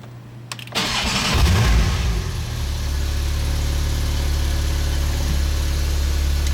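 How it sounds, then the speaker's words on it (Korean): A Porsche 911 Turbo starts with a sharp roar that swells briefly, then drops to a deep, steady exhaust idle close by. "배기 사운드 한번 들어볼게요."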